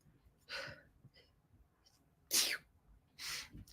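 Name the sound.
sneeze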